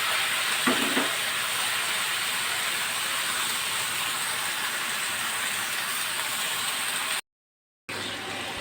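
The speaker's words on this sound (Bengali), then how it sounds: "এর ভিতরে আমি এখন এই লাউটা দিয়ে দেবো।" Chopped bottle gourd hitting a hot pan lets out a loud, steady hiss of steam and sizzling that holds evenly for several seconds, with a brief dropout near the end and no talking.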